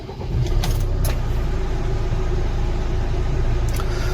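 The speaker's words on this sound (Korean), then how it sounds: "한번 시동을 걸어 볼게요" A used car's engine idling just after start-up: a steady, loud, low mechanical rumble with a few faint clicks early on, no voices.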